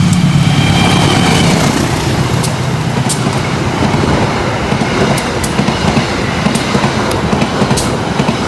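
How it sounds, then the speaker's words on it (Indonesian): The Sancaka passenger train rolls straight through Tarik station close by, loud and continuous, with a rushing rumble and faint rhythmic clicks from the wheels over the rails. "Kereta api Sancaka sudah berjalan langsung di stasiun Tarik"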